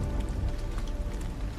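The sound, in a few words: rain falling in video game Detroit Become Human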